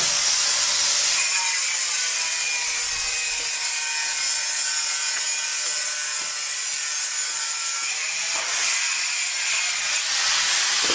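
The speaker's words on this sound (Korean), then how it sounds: "지금 외장 공사라고 있어서 소음이 좀 많이 발생되걸 있어요." Exterior construction work at a premium country house building site gives a continuous harsh, hissing, grinding roar that stays loud and unbroken throughout, with no voices.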